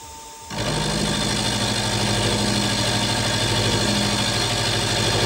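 A milling machine's cutter takes a 0.25 facing pass across a tooling plate, a steady close mechanical drone with a fine whirring texture that starts abruptly after a brief quieter moment and continues evenly to the end.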